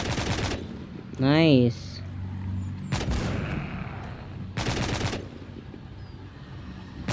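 Gunfire from the video game The Walking Zombie 2, heard as a few separate bursts of shots spread through the clip along with other game sounds, while someone speaks a brief word.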